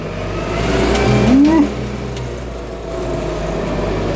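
A Scout TB-904C tractor engine revs up briefly, the rumble rising in pitch then dropping back to a steady idle, close and loud.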